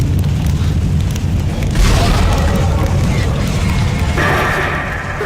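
A deep rumbling explosion in the video game Dead Space, a heavy sustained boom with crashing debris swelling midway and lingering, loud and close, with game voices mixed in.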